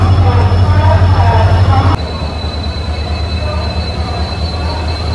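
A train rumbles along at night on the way to Mecheda station, a loud steady roar of wheels and carriage noise with a sudden drop in level partway through as the rumble continues.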